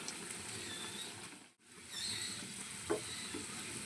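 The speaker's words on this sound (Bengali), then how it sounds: "এপিট ওপিট উল্টে পাল্টে ভাজা করে নিতে লাগবে" Potato and egg tiffin fries in a pan as it is flipped, giving a steady sizzle with light stirring scrapes and a brief dropout midway, followed by a small clink near the end.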